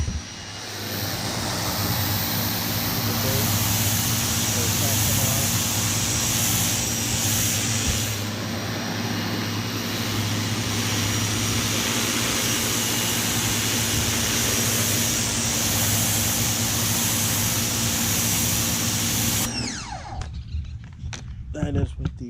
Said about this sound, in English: I'm taking the turbo nozzle and I blast my driveway.